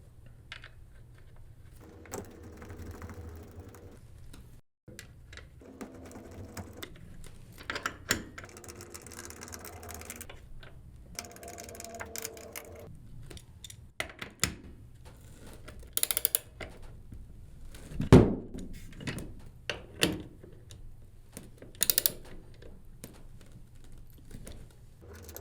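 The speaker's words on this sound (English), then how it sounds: "Now that these are lined up, we can start our torque screws." Torque screws are driven into the yoke of a Minn Kota Ultrex or Fortrex trolling motor, making intermittent mechanical ratcheting and tool clicks. Bursts and pauses come in an uneven rhythm, close by, with no speech.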